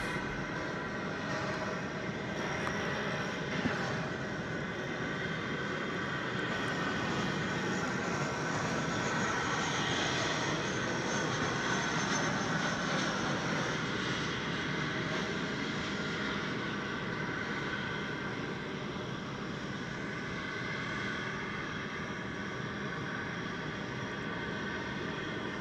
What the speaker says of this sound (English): here comes the flight from Des Moines.